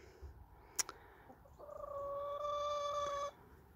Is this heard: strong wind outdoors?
no